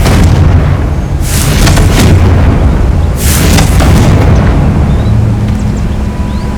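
Confringo blasting-spell explosions in Hogwarts Legacy: two loud, booming bursts about two seconds apart, each with a rumbling tail, over a constant heavy game-ambience bed.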